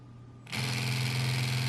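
A homemade brushless DC motor with a magnet rotor, one magnet on each side, suddenly spins up, giving a steady, loud whirring hum with a strong tonal drone that holds evenly after the abrupt start.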